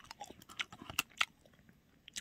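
Someone bites and chews a crispy, reheated Isaac Toast sandwich with cheese, giving close, quiet crunches and sharp crackles in an uneven rhythm.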